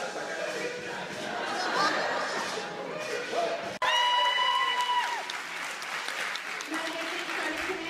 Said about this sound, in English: crowd was wild, cheering on the male beauties